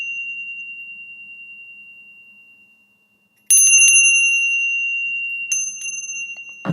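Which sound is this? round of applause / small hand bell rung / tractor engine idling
small hand bell rung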